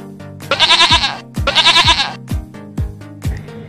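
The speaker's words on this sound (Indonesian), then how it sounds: "Cari makan yang banyak ya kambing." Goats bleat loudly and close while being fed, several long wavering calls followed by shorter ones, alone with no talk.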